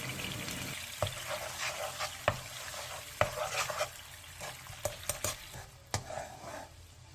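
Sauce of cooking oil, soju, soy sauce, corn syrup, minced garlic and sugar bubbling in a pan over medium-low heat, a steady sizzle broken by sharp clinks and scrapes of a utensil against the pan, close and alone.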